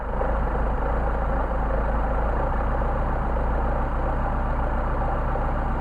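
A Mercedes 190SL engine on Solex carburetors idles with a steady, close, low rumble that stays even and unbroken throughout, with no talk.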